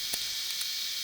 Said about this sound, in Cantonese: 咁我再炸一炸個皮先